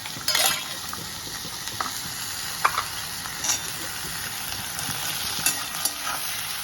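Tomato, brinjal and drumstick sautéing in a pan, a steady soft sizzle with occasional light stirring scrapes and taps, close by and without voices.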